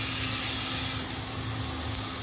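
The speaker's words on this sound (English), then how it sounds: "So here's the different functions on the spray head itself." Shower head spraying water on one of its spray settings, a loud steady hissing spray with a faint electrical hum beneath, brief and close-up.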